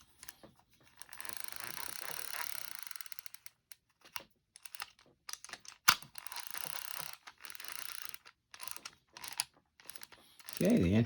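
Ratcheting clicks from the anti-reverse of a Sougayilang TSSD 3000L spinning fishing reel on the bench after servicing, heard close and alone as bursts of rapid clicking separated by short pauses, with a louder snap partway through.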